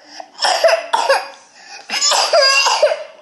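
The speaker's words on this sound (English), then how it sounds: "You only cough when I turn the camera on" A toddler coughs in several harsh, raspy bursts close to the microphone, with short pauses between coughing fits.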